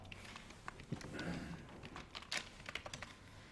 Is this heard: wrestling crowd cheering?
no